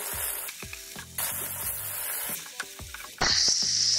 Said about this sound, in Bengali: এখন আমরা রসুন বাটা পেঁয়াজ বাটা দিয়ে দিচ্ছি।